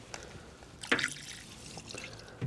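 Water draining and dripping out of an engine cylinder on an old Holden Commodore, scattered drips with one louder splash, fairly faint and close.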